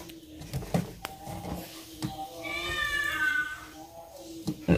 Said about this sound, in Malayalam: അത് നമ്മുടെ പൂച്ച കുട്ടിയാണ്